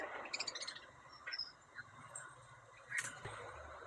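Lovebirds chirp in short bursts of high, quick calls against a faint background hum, several brief sharp notes scattered throughout.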